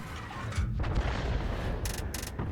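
A tank main gun fires in the World of Tanks video game, a single deep, booming shot with a rolling low rumble that fills the clip. The sound is loud and close, and no voices are heard.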